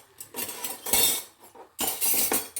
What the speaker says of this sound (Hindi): इसको मैं मिक्स कर रही हूँ।